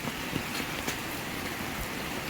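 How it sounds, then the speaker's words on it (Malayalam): Steady heavy monsoon rain pours down in Kerala in a dense, even hiss with scattered louder drops, continuous and fairly close, with no voices. "രാവിലെ മുതൽ പിടിച്ച മഴയാണ്. ഭയങ്കരമായിട്ടുള്ള മഴയായിരുന്നു."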